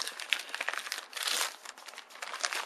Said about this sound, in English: So let's unwrap it.